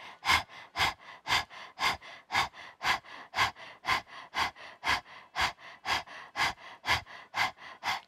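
Rapid, rhythmic panting breaths during a yoga breathing exercise, about two sharp breaths per second, steady and close, with no talking.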